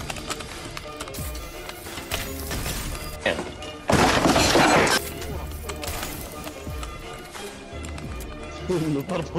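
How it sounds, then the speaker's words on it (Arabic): Stone breaking in the Fortnite video game gives a sudden, loud crunching shatter about a second long in the middle, amid other game sounds while players talk throughout. "صوت الحجر بس تكسر هو جد معني"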